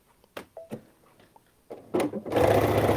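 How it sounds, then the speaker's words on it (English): Sewing machine running a seam down the side of a Cuddle Minky fabric infinity scarf, a few short bursts of clicks and handling noise leading into a steady, louder whirring stitch run at the end. "I'm just going to sew down the side."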